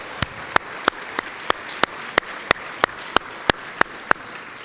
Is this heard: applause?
yes